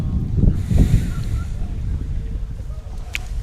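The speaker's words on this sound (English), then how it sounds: "that wind kicks up, and it's just a windy day" Wind gusts across an open mountain ballfield on a cold fall day, a broad steady rush of microphone buffeting with a couple of louder thumps early on and a faint chirp near the end.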